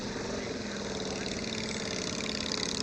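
Yamaha V-Star motorcycle engine idling and rumbling steadily up close as the bike is eased through a tight turn, a continuous low drone with no clear revving.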